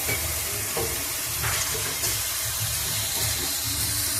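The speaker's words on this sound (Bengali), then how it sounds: "এবার সব মশলাগুলো আমি ভালো করে কষে নেব।" Spices fry in hot oil in a pan for bhola fish jhal, a loud, dense, continuous sizzle and hiss with faint scraping stirs underneath, close and unbroken.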